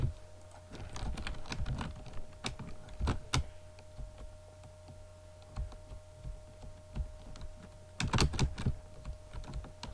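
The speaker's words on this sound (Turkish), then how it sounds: "Klavyenin ses çok geliyor biliyorum." Keys clatter on a computer keyboard in irregular bursts of typing with pauses, close and quiet, over a faint steady hum.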